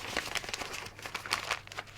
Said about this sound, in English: on one paper, I'm going to crumple it up.